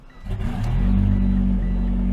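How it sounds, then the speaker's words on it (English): A Mitsubishi Eclipse GSX engine cranks briefly and catches, then settles into a loud, steady idle with a deep rumble close by. "What I think would be refreshing is if you actually started the car."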